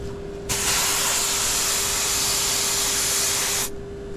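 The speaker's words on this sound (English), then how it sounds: "Now we have to pull a vacuum on both of these lines" A vacuum pump hooked to the refrigerant lines of a Gree Flexx 3-ton inverter HVAC system kicks on with a loud, broad hiss over a steady low motor hum, runs evenly for about three seconds, then cuts off.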